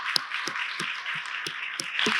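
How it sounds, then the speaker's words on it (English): A few scattered, distinct claps sound at an uneven pace in a panel-discussion room, seven or so sharp hand claps over a faint background hiss rather than a full ovation. "If we could give everybody a round of applause for all the partnership for downtown Brampton."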